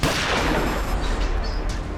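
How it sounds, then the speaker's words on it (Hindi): A loud, close gunshot fired inside a car in a kidnapping scene from a crime drama, a single dense blast that fills the sound and then slowly decays, with no talking over it. "अभी अभी गोली चलने की आवाज आई है गाड़ी के अंदर से"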